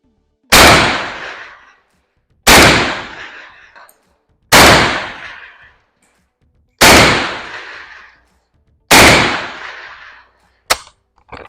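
Five loud rifle shots ring out about two seconds apart as the remaining rounds of a magazine are fired, each sharp crack trailing a short decaying echo, followed by a brief metallic click at the end.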